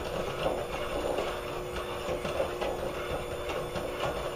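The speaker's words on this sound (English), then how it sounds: "with my hand mixer, I'm just going to start to mix this in" A hand mixer whirs steadily as it blends canola or vegetable oil into fudge brownie batter in a bowl, an even mechanical buzz with faint rhythmic pulsing and no speech.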